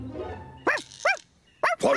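A cartoon dog in Postman Pat gives three sharp, close barks spaced across the moment, with a soft background bed between them.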